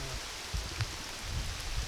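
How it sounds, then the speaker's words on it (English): Heavy rain pours down at night in a dense, steady hiss of drops that pelts the camera, with no voices. "This is just, it's downpour right now."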